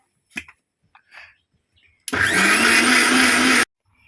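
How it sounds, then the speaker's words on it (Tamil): A mixer grinder grinding masala for mutton curry roars on loudly and steadily for about a second and a half, then stops abruptly, with brief faint sounds before it. "இப்போ என்ன செய்கிறாங்கன்னா அந்த அரைக்க போகிறாங்க"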